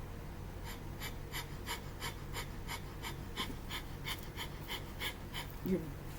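Rapid, rhythmic breath-of-fire panting repeats in a steady quick pulse, close and fairly loud, with a low hum underneath and no talking.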